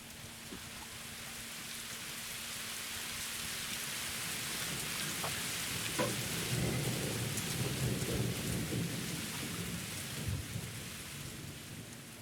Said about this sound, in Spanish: Entonces va a empezar a llover suave, luego va a llover muy fuerte y luego va a dejar de llover.